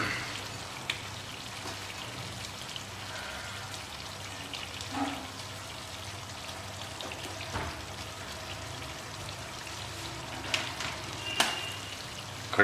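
Whole onions drop into bubbling mutton masala and fry with a soft, steady sizzle and faint crackle, quiet and continuous with a few small pops.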